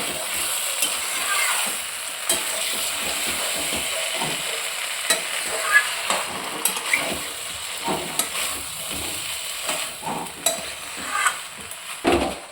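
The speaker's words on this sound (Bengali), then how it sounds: "এবার কেটে রাখা বেগুনগুলো দিয়ে দেবো দিয়ে ভালো করে নাড়াচাড়া করে নেবো" Eggplant pieces are stirred into masala frying on low flame for a hilsa curry, giving a constant sizzle with repeated scraping and clacking of a spoon against the pan, nearby and fairly loud.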